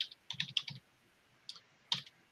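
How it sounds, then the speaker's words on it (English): Keys clack on a computer keyboard in short close bursts, a quick cluster of strokes followed by a pause and two more isolated taps, with no talk. "finish typing here."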